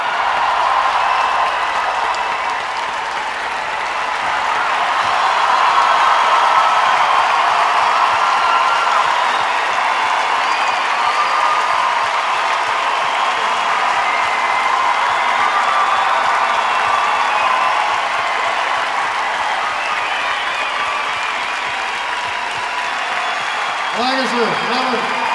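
Sustained audience applause and crowd noise at a live concert with an orchestra, a steady dense wash of clapping lasting throughout.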